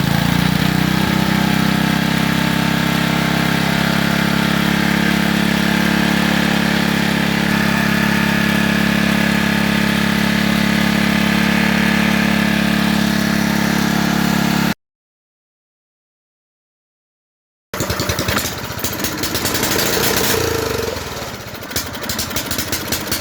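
A stock, uncleaned tuned car engine idles loudly and steadily at close range, a constant rough drone that cuts to silence partway through, then resumes with a slightly rougher, uneven tone.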